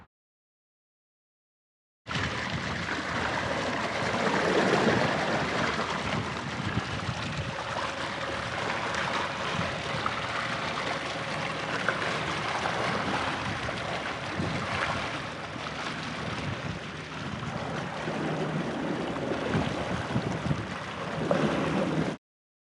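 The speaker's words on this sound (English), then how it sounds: "you can hear it, like the motor vibrates when it has sargassum on it" An electric outboard motor runs on a small boat near shore, its propeller fouled with sargassum so it vibrates, a faint steady hum buried in a continuous wash of water and wind with no talk.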